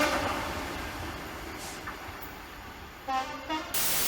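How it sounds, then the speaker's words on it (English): A freight train passes at a British rural station on the line near Freshford, a steady low rumble running throughout with brief horn-like tones near the end. "Oh, hang on, train, freight."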